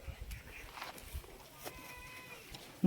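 A Pure Beetal goat buck with a long beard gives a faint bleat on a goat farm in Himachal forest country, quiet and partly buried under low background noise and distant voices.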